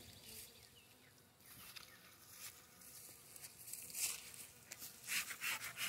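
Bees buzz softly and continuously during the inspection of an overwintered five-frame deep beehive, with gusty wind and light rubbing and knocking of wooden hive parts rising toward the end.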